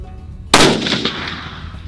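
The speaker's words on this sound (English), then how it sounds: "It's the first time shooting it off a bipod." A single loud, close gunshot from a Bergara Wilderness Sierra 7 PRC rifle fired off a bipod, a sharp crack followed by a long rolling echo fading out.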